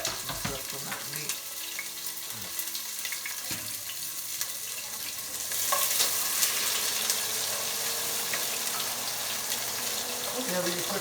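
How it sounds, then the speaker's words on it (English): Sliced peppers hit a hot frying pan greasy with cooked taco meat, giving a bright, steady sizzle that swells louder partway through and then holds as a constant crackling hiss. "I'm going to add my peppers in it. Let's go ahead and, oh yeah, see that sizzle?"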